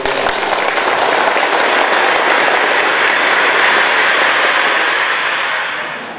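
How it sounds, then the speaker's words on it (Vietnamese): Loud, dense applause from a large assembly at a Vietnamese veterans' commemoration gathering, a continuous wash of clapping that holds steady before tapering off at the end. "Tôi đề nghị chúng ta cho một tràng vỗ tay hoan nghênh."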